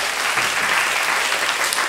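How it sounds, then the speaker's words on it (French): Theater audience applauding a performer named Alain at a live show at the Théâtre du Jardin, a dense, steady wash of clapping that holds at an even level throughout. "C'est Alain, vous pouvez l'applaudir, l'encourager."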